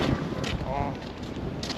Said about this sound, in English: It's all the wind that's so cold today.